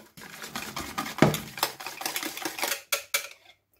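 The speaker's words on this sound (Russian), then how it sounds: "Высыпаю творог." Cottage cheese (tvorog) tipped into a bowl for syrniki batter, a run of soft rustling, tapping thuds and scraping over a few seconds, fairly close, with no talk.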